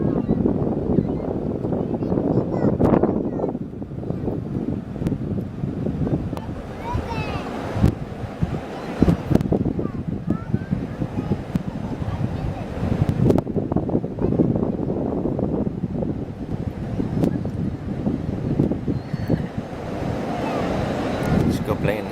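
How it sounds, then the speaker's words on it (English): Ocean surf rolls steadily onto a beach while gusts of wind buffet the microphone, producing a continuous, loud rushing roar with swelling wave crashes throughout. "Nice waves out there today."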